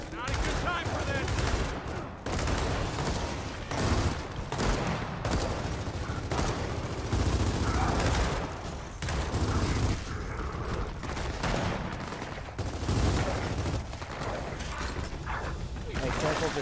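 Sustained gunfire from a Gears of War 4 firefight, dense bursts and repeated shots running throughout, loud and close, with voices talking over the battle.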